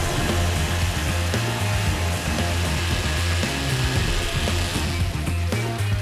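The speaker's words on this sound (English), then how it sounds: "So these crews are continually cutting it back, telescoping chainsaws." Telescoping chainsaws cut back trees and brush along railway tracks in Panama, a loud, continuous motor drone with a steady low throb and wavering pitch as the saws bite into wood.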